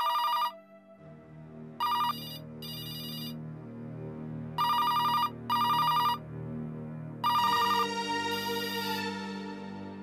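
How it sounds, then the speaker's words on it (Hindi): A telephone rings in a home in repeated bright electronic bursts with short gaps, loud and near, over a soft musical background. "फोन बज रहा है।"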